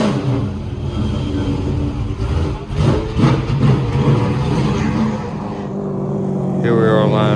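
A Chevrolet race car in Patriot paint sits lined up at Tri County Speedway, its engine rumbling steadily with a few surges and other cars audible nearby before a higher whine rises at the end.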